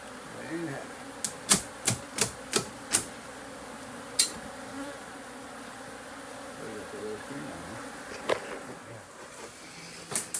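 A steady low buzz of many honeybees from a large colony in a wall hums throughout, broken by a quick series of sharp clicks and taps, with a voice faintly underneath.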